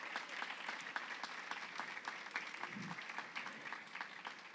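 A church congregation claps together after a sermon, a faint, even wash of many hands continuing steadily without a break.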